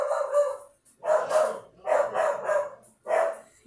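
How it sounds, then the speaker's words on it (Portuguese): Several dogs bark in a yard in bursts of loud, harsh yelps, four clusters over a few seconds with short pauses between, no talking. "agora vocês perdoam aí os cachorros, tá? Porque acho que chegou gente no quintal e os cachorros ficam..."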